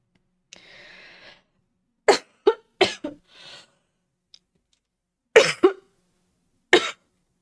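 A coughing fit in a quiet room: a short breathy rasp, then several sharp, close coughs in quick clusters with silent gaps between them.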